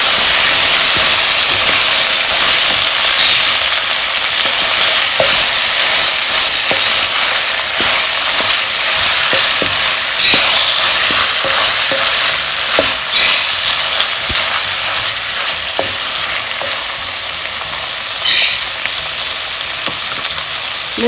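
Spiced vegetables for an Indian-style ratatouille sizzle and bubble steadily in a pan, a loud, close, continuous hiss with occasional pops and spits, with no talking.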